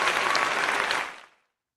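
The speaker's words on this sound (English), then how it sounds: "Just take Kisha everywhere with that button, with the claps" A button-triggered applause sound effect plays at a live podcast recording: a burst of loud, dense clapping that holds for about a second, then fades quickly to silence.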